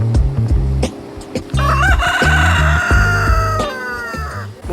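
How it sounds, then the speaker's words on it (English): A big rooster in a Porto park crows loudly and close, a long cock-a-doodle-doo over a busy background of clucking and other fowl calls. "I've just seen the biggest chicken"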